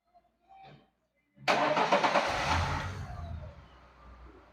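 A brief click, then a Lada Niva engine with a new timing chain cranks and catches, settling into a steady, smooth idle close by.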